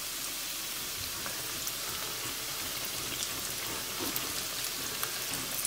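Apple fritters frying in hot oil, a soft, steady crackling sizzle with fine popping bubbles, fairly quiet and continuous with no talking.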